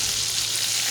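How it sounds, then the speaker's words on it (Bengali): Broiler chicken pieces frying in hot oil, a brief dense sizzle heard up close. "এরকমভাবে ভেজে নেব"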